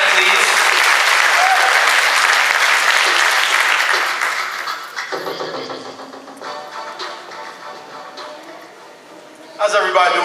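An audience at a talk for college students claps loudly for the first speaker, the dense applause thinning after about four seconds into scattered claps and murmuring before a brief louder burst at the end.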